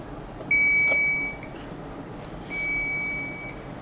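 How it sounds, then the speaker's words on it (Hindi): Continuity tester buzzer on an AC contactor wiring test for a split air conditioner gives two steady high electronic beeps, each about a second long, with a short gap between, over faint background hum. "अब इसको बजर पे लगाते हैं।"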